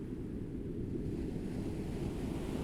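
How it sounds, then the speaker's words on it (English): Ocean waves wash steadily in a dense, continuous roar blended with deep brown noise, a smooth even soundscape with no voices. "What you're hearing is not just an ocean soundscape, you're also hearing brown noise."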